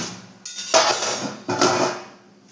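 Metal cooking pot of boiled rice handled during draining, giving two bursts of clanking and scraping metal, close and fairly loud, with brief quiet gaps between.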